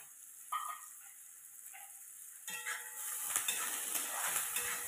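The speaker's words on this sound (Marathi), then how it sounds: "दहा बारा टाकू याच्यात कढीपत्त्याची पानं" Curry leaves drop into onions frying for a raw banana vegetable dish, a quiet pan first giving a couple of light taps, then a sudden, growing hiss of sizzling that carries on steadily.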